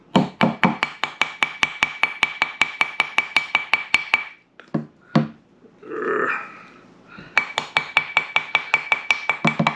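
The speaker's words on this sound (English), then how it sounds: "got a ring mandrel, a little plastic hammer" Rapid, even taps of a small plastic hammer on a metal ring mandrel, shaping a ring, ring out in quick runs, briefly pausing for a few scattered knocks and a soft rustle before resuming.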